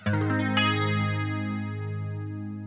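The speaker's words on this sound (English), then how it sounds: "you can almost hear it moving in and out of tune too much" A single strummed electric guitar chord through a Line 6 Helix Jazz Rivet 120 amp model with chorus synced to a half note rings out, its pitch audibly wavering in and out of tune as it sustains.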